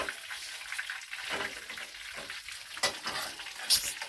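Mint leaves frying in hot oil for pudina chutney, a close, busy sizzle with spoon stirring and scraping in the pan, one louder scrape near the end.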